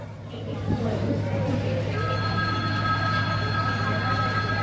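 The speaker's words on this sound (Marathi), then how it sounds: "नऊ वाजून चोवीस मिनिटाला आपली गाडी पंढरपूरवरून निघालेली आहे" The Dadar Satara Express departs Pandharpur with a steady low rumble and hum of the train, a faint high tone entering midway, under a voice.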